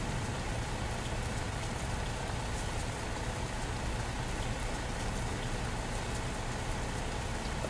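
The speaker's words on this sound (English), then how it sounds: "so you can hear the rain in this game" Steady rain in the truck simulator game On the Road patters continuously on a surface, an even dense hiss with no voices.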